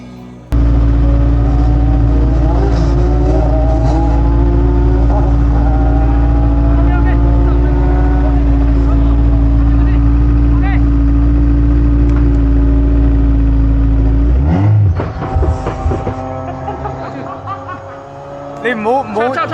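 A Formula 4 race car pulls away on a track, its engine droning loud and steady with rising gear tones before the sound drops off and shifts near the end, with talk over the engine.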